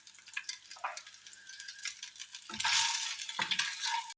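Ground pepper and spices frying lightly in a pan for egg biryani, a steady close sizzle with stirring scrapes, louder bursts toward the end.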